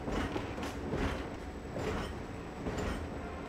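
A train rolling along in the strategy game Valkyria Chronicles, a steady low rumble with periodic creaks and metallic clacks repeating every half second or so, moderately close and continuous.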